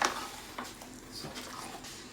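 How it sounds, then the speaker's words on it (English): A spoon stirs a thickening Irish stew in a pot for St. Patrick's Day, giving soft scraping and knocking strokes with a faint simmer beneath, fairly quiet and close. "just continue to stir often as this tightens"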